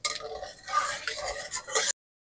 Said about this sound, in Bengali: ফোড়নটা আমি বেশি করে একটু নাড়াচাড়া করে নেবো।